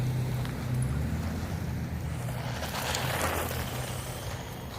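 A Haiboxing Protector 1:12 scale off-road RC sand buggy is driven outdoors, its motor giving a steady whirring drone with rushing wind noise across the mic, fairly faint and without speech.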